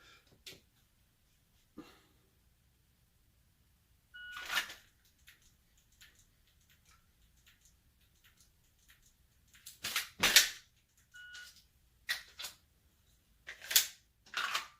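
Dry-fire trigger clicks from a Glock 34 Gen 5 pistol during transition drills, sharp isolated clicks at irregular spacing, a few grouped close together, in an otherwise quiet room.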